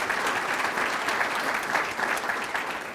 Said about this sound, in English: give that team a huge round of applause